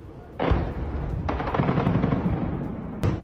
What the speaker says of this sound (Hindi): ओडेसा के पावर प्लांट में कैसे भीषण धमाका हुआ उसकी तस्वीर अब आपके सामने